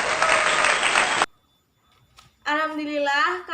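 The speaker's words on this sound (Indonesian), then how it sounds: "Beri tepuk tangan kepada Mbak Sela." A classroom of elementary students at a microteaching lesson applauds a classmate in a dense, loud burst lasting just over a second, followed by near silence and then someone speaking.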